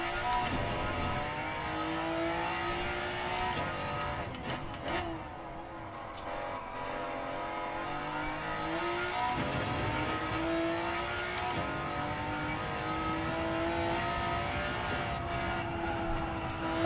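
A race car engine on the Nordschleife in Gran Turismo 7, revving and shifting through corners with rising and falling pitch, steady and fairly quiet with no talk.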